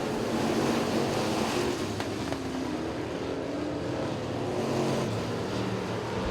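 Factory pure stock race cars run a heat race at a raceway, a steady broad engine roar blended with wind noise, continuous and fairly loud without clear individual passes.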